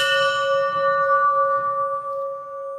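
A metal bell at a Buddhist temple in Dehradun is struck once, giving a loud, close ring that hums on and slowly fades.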